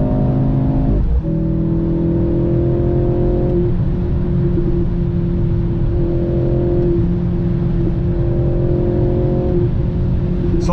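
A 2023 Mercedes-AMG C43 with the M139 four-cylinder engine accelerates, a steady loud interior drone that climbs in pitch through several gear changes with brief dips between shifts.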